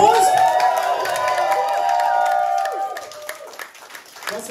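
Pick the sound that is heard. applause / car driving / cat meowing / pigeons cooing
applause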